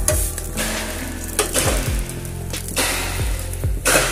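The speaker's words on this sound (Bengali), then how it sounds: "সুইট পরোটা ভাজা হয়ে গেছে" Sweet paratha fries in oil in a pan, a steady loud sizzle broken by several spatula scrapes and clanks as it is flipped and pressed, with no talking.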